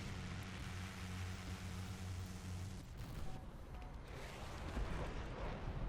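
Rapid gunfire aimed at the player's F-16C fighter jet in War Thunder, a dense, rumbling burst of rattling shots over steady engine roar, loudest in the first half and continuing unbroken for about six seconds.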